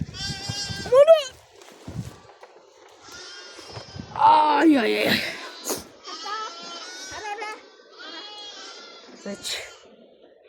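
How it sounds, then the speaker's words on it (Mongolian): Several lambs bleat in short, high, wavering cries, close by, with pauses between calls and a brief voice exclaiming once. "Энэ хургнууд байгаа."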